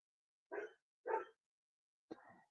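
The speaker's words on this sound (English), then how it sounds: "Sorry about my dog barking." A dog barks three times indoors at moderate distance, two full barks about half a second apart followed by a shorter, yelping bark after a pause, with quiet silence between.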